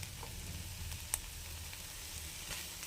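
Spicy meal maker soy chunks with ground spice powder frying in a pan over medium flame: a faint, steady sizzle with a few soft scraping clicks from stirring.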